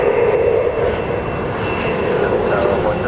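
Delta Airbus A319 jet passing at night at DFW Airport, a loud continuous engine roar with a steady broadband rush and a faint high whine above it, close and unbroken.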